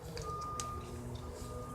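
Truck backing-up alarm from an 18-wheeler, a steady series of faint, evenly spaced beeps sounding at a distance over low background hum.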